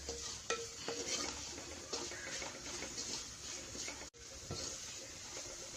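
Kerala-style masala with chili powder roasting in a pan for a tapioca egg dish, a soft continuous sizzle with quiet, scattered scrapes and taps of a spoon stirring, faint and close with no voices.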